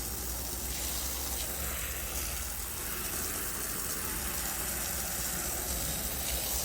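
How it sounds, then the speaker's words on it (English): Hose spraying soft wash roof-cleaning solution onto a roof, a steady, close, hissing spray that runs evenly throughout with no talking. "Spray till you hear the burp or you see the bubbles"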